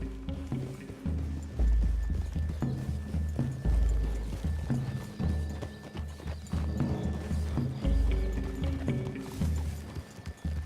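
Horses' hooves clip-clop steadily through a wooded clearing in Red Dead Redemption 2, a rhythmic trotting cadence close and fairly loud over a low ambient bed, with an occasional faint whinny.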